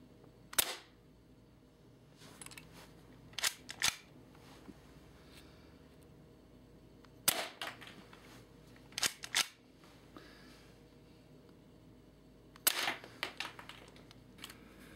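An M945 spring-powered airsoft handgun firing, sharp single snapping shots spaced irregularly several seconds apart, crisp and close over a quiet background.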